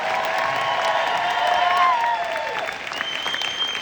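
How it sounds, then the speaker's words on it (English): Audience at a motivational speaking event applauding, continuous broadband clapping with a few whoops and tonal cheers layered over it, steady and full throughout. "Give yourselves a round of applause."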